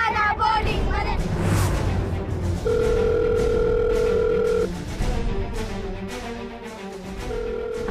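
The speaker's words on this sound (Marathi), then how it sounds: "अजूनही उचलत नाहीये बघ फोन." A telephone ringback tone repeats unanswered in a steady electronic purr, heard within a Marathi TV serial scene, with voices and background sound around it.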